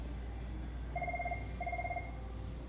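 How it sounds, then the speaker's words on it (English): A telephone rings at Fiesta Village in Colton, California, two electronic trilling bursts about a second apart, clear but moderate over a steady low room hum. "The phone is ringing."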